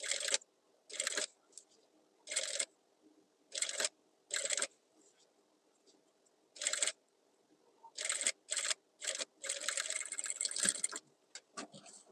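A sewing machine stitches a trouser zipper in short, sharp whirring bursts separated by pauses, then runs in quicker, closely spaced spurts and one longer continuous run near the end. The sound is close and clear with no talking.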